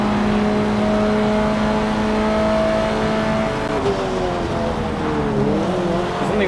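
Race cars in a video game roar around a smooth track, their engines giving a loud, continuous whine that holds steady, then wavers and shifts pitch as they accelerate and ease off.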